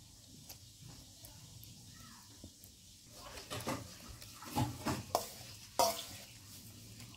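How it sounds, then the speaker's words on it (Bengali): Cooked rice pulao kneaded by hand with rotten coconut oil, ghee, honey and powdered milk into fishing bait for rohu and catla: soft, close squelching and sticky slapping that grows busier and louder toward the end. "ভাত পোলাওয়ের সঙ্গে তেলগুলো খুব সুন্দর করে মেখে নেব"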